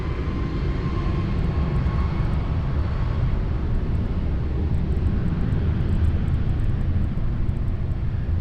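A Ryanair airliner takes off at Lisbon Airport with a loud, steady broadband engine roar that holds for the whole stretch and never fades. No one talks over it.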